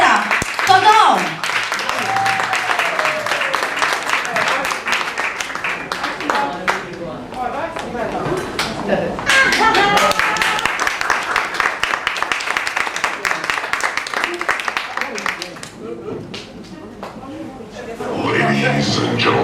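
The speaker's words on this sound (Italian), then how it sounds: "vorrei un forte applauso per il nostro Enzo Sorrentino" At a dinner show in Naples, an audience applauds for an entertainer doing a Totò impression, and steady crackling clapping runs throughout under a talking voice and background music.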